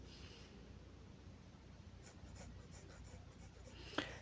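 A pencil drawing a line on paper for a sketch of an aloe plant from life, with soft, close scratchy strokes in a few short bursts over quiet background noise.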